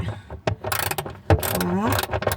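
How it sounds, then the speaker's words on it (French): Ratchet wrench tightening the spare-wheel winch on a Fiat Multipla phase 2, giving a few short clicking bursts and metallic rattles up close, with quiet handling noises between them. "on va commencer à revisser le tout avec le cric. Bah pas le cric mais le cliquet."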